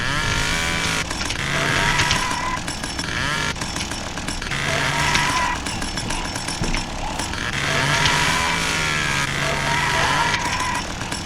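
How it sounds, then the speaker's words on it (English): A chainsaw weapon in a first-person shooter video game set in the woods revs loudly and continuously, its buzzing engine rising and falling in repeated surges, with gunfire-like clatter and no talk. "We got a chainsaw."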